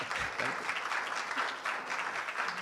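An audience applauds at the close of a keynote presentation on neighborhood change, steady clapping from a crowd lasting the whole clip at moderate, even loudness, with no talk over it.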